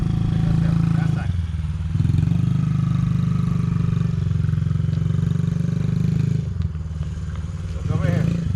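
A motorcycle engine hums steadily at a low, even pitch during a slow circle-riding drill with a beginner rider, dipping briefly twice as the throttle eases, loud and close throughout.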